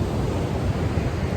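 Ocean surf rolls onto a flat, gently sloping beach at Daytona Beach, Florida, a steady broadband wash of waves with wind noise, continuous and fairly loud, no talking.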